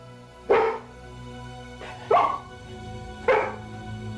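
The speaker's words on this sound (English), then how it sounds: "And finally, the barking started." Three sharp dog barks, spaced over a few seconds, close and loud against a quiet background hum.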